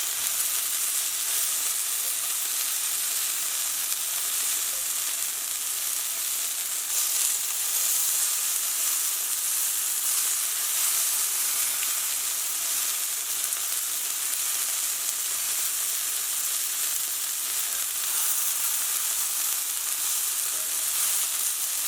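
Freshly flipped sesame chicken pieces fry in a pan with a continuous, steady sizzle and hiss, close and unbroken throughout with no talking.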